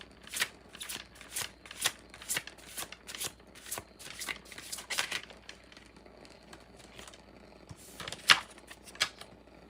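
Tarot cards being shuffled and drawn, with repeated crisp riffling bursts and flicks at an uneven rhythm, close and moderately loud, with a sharper snap near the end.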